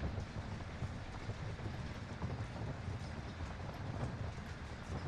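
Steady rumbling rush of a train riding along in Call of Duty: Warzone, a continuous broadband roar with wind-like noise and no pauses.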